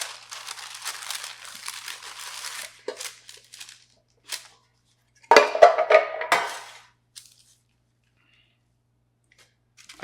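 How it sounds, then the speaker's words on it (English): Stiff parchment paper crinkles and rustles as a cold-retarded sourdough loaf dusted with rice flour is flipped onto it, a long papery crackle followed by a louder crumpling burst, then quiet. "I flip the loaf onto parchment paper"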